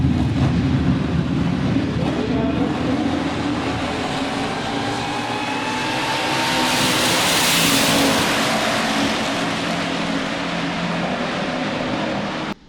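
Two Camaro street machines rev and race past in a loud, continuous engine roar that swells toward the middle and then fades slightly, with no talk over it.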